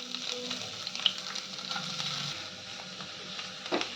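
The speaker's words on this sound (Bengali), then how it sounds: "এবার লাউটা আমি ঘিয়ের মধ্যে ভেজে নেব।" Bottle gourd frying in ghee in a pan after cashews and raisins are removed, a soft steady sizzle with faint crackles and an occasional stirring clink, close and unbroken, with no talking.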